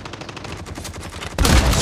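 Gunfire from the mobile shooter Call of Duty Mobile: a rapid run of soft repeated shots, then a much louder, denser burst of automatic fire near the end.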